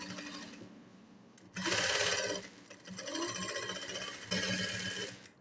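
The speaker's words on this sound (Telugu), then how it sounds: "వెనక్కి రావాలి అంటే మనం స్టిచ్ చేస్తున్నప్పుడు ఇలా అంటే మనకి లాక్ స్టిచ్ అనేది పడుతుంది." A tailoring sewing machine stitches a lock stitch on fabric in short bursts, loud rattling runs separated by brief pauses, close up with no talk.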